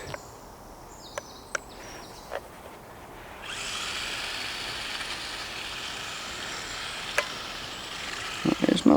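A WPL 14 RC truck's small electric motor whines at full throttle, a steady high-pitched whir that starts partway in, preceded by a few sharp clicks, with more clattering knocks near the end.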